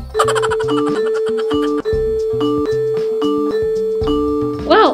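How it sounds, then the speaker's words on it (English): A synthesized doorbell chime in the video game Toca Life World plays a repeating melodic ding-dong pattern, bright and electronic, with a short rising flourish at the end. "I rang the doorbell, no one's answering."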